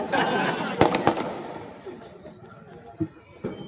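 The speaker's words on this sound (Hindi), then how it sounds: "मैं पटाखे के बारे में बोल रहा।" Firecrackers go off on a street in Solapur: a few sharp, near bangs early, then scattered fainter pops over a murmur of crowd voices.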